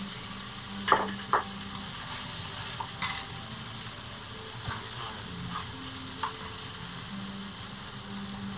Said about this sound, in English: now we're going to whack in the onions and the shallots